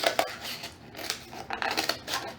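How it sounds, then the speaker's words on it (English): Scissors snip through duct tape to cut out traced rectangles for a wallet, a run of short crisp cuts with brief pauses between them, close and fairly quiet. "I'm going to take my scissors and just cut around this"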